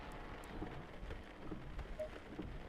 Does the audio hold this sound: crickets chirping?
no